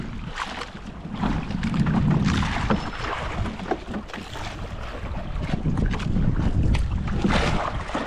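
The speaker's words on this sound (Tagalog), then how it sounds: "Pinalpal kami ng hangin." Strong wind buffets a small boat out on open water, with steady gusting roar, microphone wind rumble and splashing water, loud and continuous throughout with no talk.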